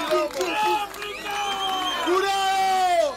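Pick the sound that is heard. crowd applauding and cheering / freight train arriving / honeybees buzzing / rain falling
crowd applauding and cheering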